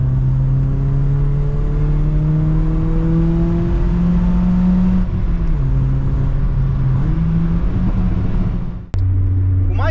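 A 2005 Ford Focus engine fitted with a universal cold air intake revs loudly from inside the car, its drone climbing steadily in pitch, dipping, then rising again before cutting off sharply near the end.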